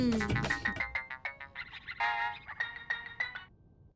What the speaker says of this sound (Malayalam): ഫോൺ റിങ് ചെയ്യുന്നുണ്ട്